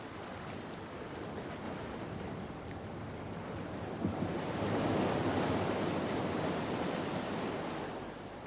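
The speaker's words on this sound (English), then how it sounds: "Hurricane-force winds generate heavy seas which batter the shoreline and leave a trail of havoc on land" Hurricane-force winds drive heavy seas against a shoreline, a roaring wash of surf and gusting wind that swells louder midway before easing slightly, with no talk.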